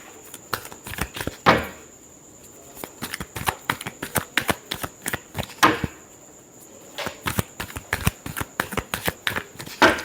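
Tarot cards being shuffled by hand, a long run of crisp riffling flicks in quick bursts with a few louder snaps, close and clear with no talking.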